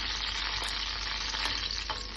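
Curry leaves and dried chillies fry in hot coconut oil, a dense, steady sizzle with crackling spits and a few louder pops, close and continuous throughout.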